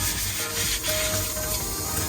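Hand sanding runs around the rim of a coated tumbler in a close, continuous scratchy rubbing with a faint tonal squeak partway through and no voices.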